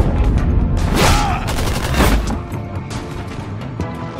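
Loud gunfire and explosive booms from the video game Tales from the Borderlands, rapid overlapping shots and blasts forming a dense, continuous barrage without pause, with faint voice-like sounds mixed into the chaos.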